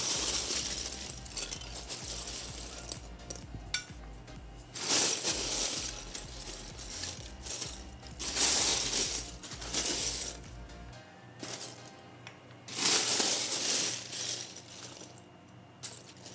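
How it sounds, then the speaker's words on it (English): Loose plastic building pieces rustle and clink in repeated bursts as someone digs through them for parts to finish a trophy case, with brief quieter gaps between the handfuls. "you get to hear all of the rustling of all the pieces as I try to find the parts"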